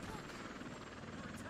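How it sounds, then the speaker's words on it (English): Army helicopter in the game Bullet Witch, a continuous rotor thump and engine drone circling steadily and filling the scene, with a voice talking over it. "Non-specific army helicopter."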